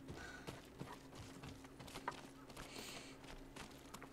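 Hooves clip-clop steadily on the ground in Ghost of Tsushima, as a horse moves at a walk among other nearby horses, over a constant low background hum.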